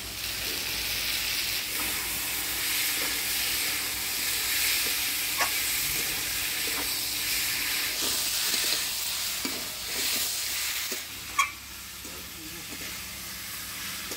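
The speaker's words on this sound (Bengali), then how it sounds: "আমি এদিকে মশলার সাথে আলু, খাসির চর্বি ভালো করে কষে নিলাম" Potatoes and goat fat tossed with spices in a hot pan for a village-style Bengali ghugni, giving a steady broad sizzle with scraping stirs and one sharp clink near the end, with no voices.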